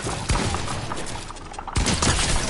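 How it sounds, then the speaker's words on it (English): Rapid assault rifle fire spammed in Fortnite, dense overlapping bursts of shots with heavy thumps, loud and continuous throughout with a brief lull before a renewed volley. "Bro, you're AR spamming."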